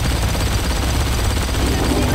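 Continuous rapid automatic gunfire in the shooter game Blacksite: Area 51, loud and sustained with no pauses.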